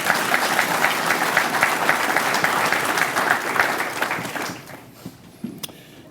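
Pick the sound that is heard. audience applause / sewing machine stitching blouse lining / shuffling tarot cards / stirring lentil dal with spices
audience applause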